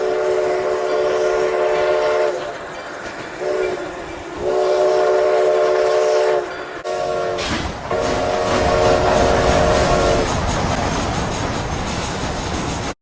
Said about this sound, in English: this was later changed to South Simcoe Railroad No. 136's whistle in the final version of the game.